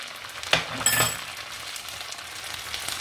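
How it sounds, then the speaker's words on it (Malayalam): Stock hits a hot pan for a peppercorn sauce to go with beef steak, a bright sizzle that flares with a couple of clinks early on, then settles into a softer, steady frying hiss. "ഏതെങ്കിലും സ്റ്റോക്ക് നമുക്ക് ഇപ്പം നമ്മളുണ്ടാക്കുന്ന ആ സ്റ്റോക്ക് ഒഴിച്ചു കൊടുക്കുക"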